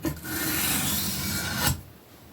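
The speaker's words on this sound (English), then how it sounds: "I just slide it down this sanding block" Sewing scissors blade drawn along a sanding block for sharpening, producing one loud, close, continuous rasping scrape that stops abruptly near the end.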